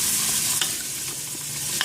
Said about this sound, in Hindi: और इसको अच्छी तरह से भून लीजिए।